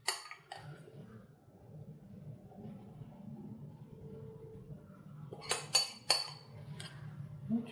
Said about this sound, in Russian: Ну, теперь ставим в духовку на 30-40 минут, пока красиво не подрумянится.